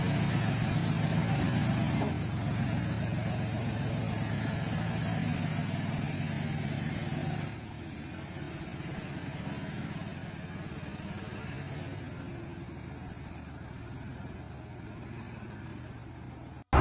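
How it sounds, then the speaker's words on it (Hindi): A six-speed motorcycle roars while stuck in deep mud on a rainy uphill climb, rear wheel spinning. Its engine gives a steady, heavy low rumble throughout, dipping slightly partway through, with no talk. "6 स्पीड मोटरसाइकिल गरज रही थी। पिछले पहिए घूम रहे थे, लेकिन और गहरे ढंसते जा रहे थे।"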